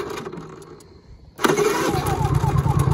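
A refrigerated trailer's engine cranks briefly after a quiet pause, then catches and settles into a loud, steady running rumble close by.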